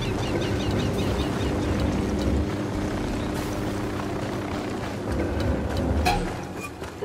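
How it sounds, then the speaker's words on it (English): Helicopter in the video game Ghost Recon Wildlands: a steady, loud rotor-and-engine rumble with a throbbing low drone that runs unbroken for the whole stretch, with no one speaking. "Helicopter, get down."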